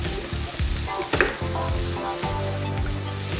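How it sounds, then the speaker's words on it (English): Garlic and mushrooms frying in a pan for a plant-based quesadilla, a steady close sizzle with stirring scrapes and a few soft utensil knocks running throughout. "Add in the garlic and mushrooms."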